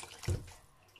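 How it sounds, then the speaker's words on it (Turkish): Water is poured into a cooking pot of dried beans, a brief gurgling splash that swells and fades within a second, close and fairly quiet. "Biraz daha su dökeceğim."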